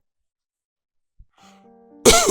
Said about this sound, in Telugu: ఏమైంది? ఎందుకలా దగ్గుతున్నావు?